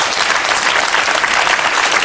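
An audience claps steadily throughout a French talk-show taping, a dense, continuous applause that stays loud and even from start to finish with no voices over it.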